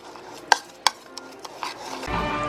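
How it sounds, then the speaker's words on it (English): A spoon stirring a brown sugar mixture in a bowl, with two sharp clinks followed by softer scraping strokes that build into a steady rustle toward the end, close by. "so then I'm gonna stir it up"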